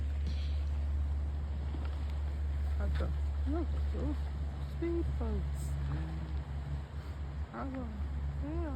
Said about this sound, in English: There goes a sailboat. I mean, motorboat.